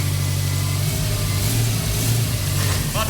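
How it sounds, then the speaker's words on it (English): A Subaru WRX STI with a swapped-in 2.5L twin-scroll engine revs up close and loud, its deep burbling exhaust rising and falling steadily throughout, with no talking. "It's weird, it still sounds like a Subaru, but a bit different."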